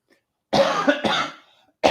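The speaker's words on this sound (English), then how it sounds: "Excuse the coughing." Several close, loud coughs in quick bursts from a man on a casual morning talk show, with short pauses between them and no speech.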